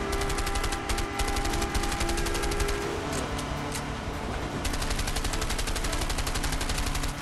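Rapid automatic gunfire from the video game A Way Out, dense machine-gun bursts rattling almost continuously for several seconds at steady loudness.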